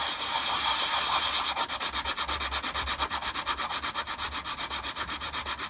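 Medium grit 3M sandpaper, roughly 60 to 80 grit, is rubbed over an armor piece close up, first as a continuous rasp and then as quick, even back-and-forth strokes in a steady rhythm.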